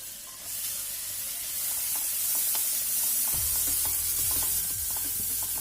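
Chopped onions hit melted butter in a pan for Mumbai-style pav bhaji, setting off a continuous, fairly loud hissing sizzle that holds steady with faint stirring ticks.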